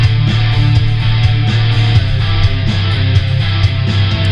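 Rock guitar section built on power chords rooted in D, played with steady rhythmic strumming, loud and full, with a strong low-end drive throughout.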